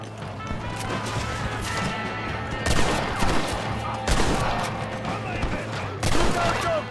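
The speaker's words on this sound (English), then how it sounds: "They have a machine gun!" Machine gun fire in the Red Dead Redemption video game, a dense fusillade of rapid gunshots and crashing impacts with several louder bursts, mixed with shouted voices.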